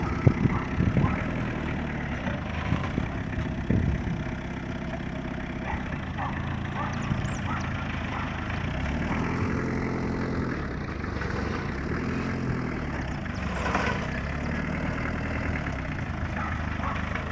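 A car engine idles low and steady during a driving lesson, a continuous rumble with a few bumps and clunks early on and a brief rise near the end, close and fairly loud with no clear speech over it.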